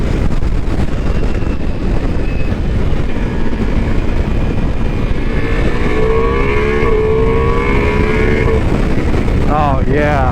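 A Ducati Multistrada V4S Pikes Peak motorcycle of 170 horsepower accelerates hard, its engine note rising steadily beneath heavy, constant wind roar on the microphone, with a brief climbing whine near the end.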